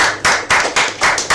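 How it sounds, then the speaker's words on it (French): An audience applauds at a live stage show, with rhythmic, evenly spaced bursts of clapping about four per second over a steady wash of hands, fairly close and loud. "Merci d'applaudir une fois encore, monsieur Kago."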